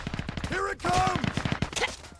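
Bursts of rapid gunfire in the Sand Land video game, fast rattling shots mixed with game voices shouting over them, loud and close in a brief chaotic exchange.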